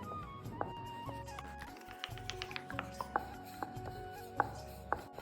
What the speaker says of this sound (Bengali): সামান্য পরিমাণে একটু ময়দা দিয়ে লেচিটাকে এবার আমি রুটির মতো বড় করে বেলে নেব।